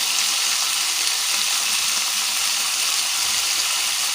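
Onions sizzle in a hot pan of oil while palm weevil larvae are being cooked: a dense, continuous crackling hiss at an even loudness, with no voices.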